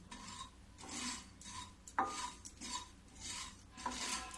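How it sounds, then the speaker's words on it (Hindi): Poppy seeds being dry-roasted in a pan over a low gas flame, stirred in repeated rasping, scraping strokes with a soft steady sizzle underneath and one sharper metallic clink partway through. "अब इसको भी धीमी गैस पर भूनूंगी।"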